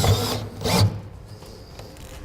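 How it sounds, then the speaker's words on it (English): A 1/2-inch bit drills out a hole in the open metal of a 2007 truck bed during a gooseneck hitch install, giving two short loud grinding bursts followed by a fainter steady whir. "drill out the hole the rest of the way."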